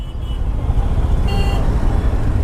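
Dense highway traffic jam in Delhi with a low, heavy rumble of engines up close and brief car horn toots poking out over the constant roar.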